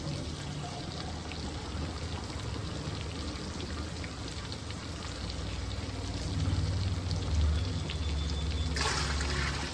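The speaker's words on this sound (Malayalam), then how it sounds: "അപ്പോൾ ഈ ഗ്ലാസ്സിന് 3 ഗ്ലാസ് വെള്ളം." Water being poured into a pot to cook rice for a fish biryani, a steady gentle trickling pour heard close and alone, swelling a little toward the end.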